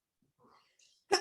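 A single sharp sneeze bursts out at the end, loud and close, after faint breathy murmuring earlier.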